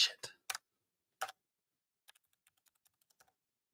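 Keys on a new computer keyboard are pressed a few times with crisp, close clicks, followed by a run of faint, quick taps. No talking is heard.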